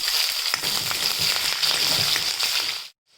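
Green chilies and smashed garlic pods frying in a pan for horsegram rasam, a loud continuous hiss of hot oil with crackling pops, close and steady, cutting off abruptly at the end.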